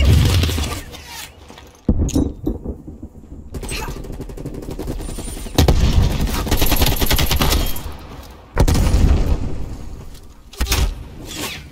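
Gunfire and grenade explosions in the video game Call of Duty Black Ops Cold War, with loud bursts of rapid automatic fire and heavy booms separated by brief quieter gaps.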